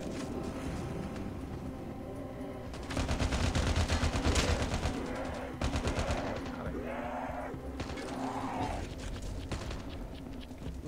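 Rapid gunfire bursts from Call of Duty zombie mode, dense automatic shooting loud in the foreground with brief pauses and game noise between volleys, a voice talking faintly underneath.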